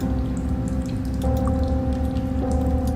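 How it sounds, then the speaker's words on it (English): A distant, ocean-like roar from the Goosebumps video game rolls on as a steady, dense wash, with a faint tonal hum running beneath it. "Far in the distance, you hear a sound like the ocean."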